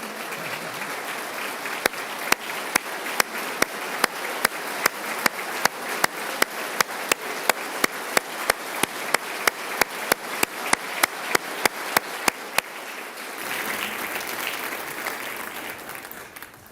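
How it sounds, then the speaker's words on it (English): Sustained applause fills a State of the State Address chamber, a dense steady crowd clapping with loud sharp claps punctuating it in a regular beat, then easing into a softer wash near the end. "Jackson, please stand so we can give you a round of applause."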